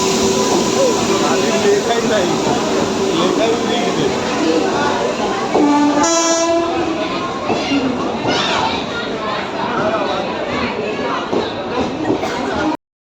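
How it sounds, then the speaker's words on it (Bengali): A late passenger train pulls into a station at night amid a busy crowd, its rumble and a brief horn-like tone rising over steady chatter and voices on the platform. "তো ফাইনালি ট্রেনটা কিন্তু আসলো, এবার আমরা ট্রেনে ওঠার পালা।"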